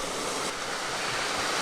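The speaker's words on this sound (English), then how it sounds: "Here's our spring coming out of the bluff here, heading down towards the mill. It's still got some water coming out" Spring water flows steadily out of a bluff in the woods, heading down toward a mill, a soft continuous wash of running water heard close and alone.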